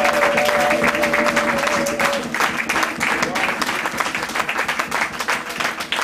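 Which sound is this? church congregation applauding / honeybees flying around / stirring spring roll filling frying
church congregation applauding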